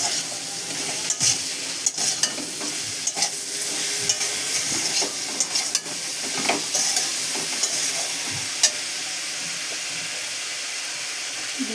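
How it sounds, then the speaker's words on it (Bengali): A spiced prawn, potato and bitter gourd curry sizzles steadily in a pan while a spoon stirs it, with irregular scraping knocks against the metal over a constant frying hiss. "দিয়ে ভালো করে একটু নাড়াচাড়া করব।"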